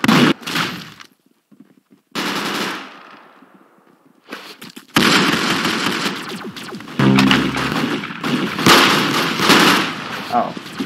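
Gunfire in the Roblox shooter Arsenal, with loud bursts of game weapon shots broken by short silent gaps, then sustained rapid firing, heard loud and close.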